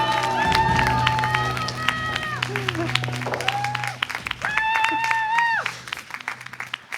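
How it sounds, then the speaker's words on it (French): A game-show audience claps and cheers through most of the stretch, dense clatter beneath a host's voice and a strong tonal sung or shouted line, easing off toward the end. "On applaudit, on a le petit coming out de la main."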